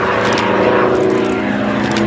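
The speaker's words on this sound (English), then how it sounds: "the Sea Fury was the last fighter made in this country to be propelled across the sky by a propeller" Hawker Sea Fury propeller fighter flying past at an airshow, a loud sustained piston-engine drone with propeller buzz that swells and fades slightly.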